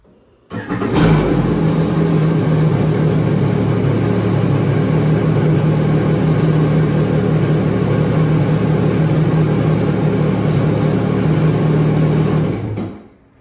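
A 2022 Yamaha WaveRunner TR-1 engine starts, then runs at a steady idle for about twelve seconds, a loud, close, even drone that stops abruptly at the end.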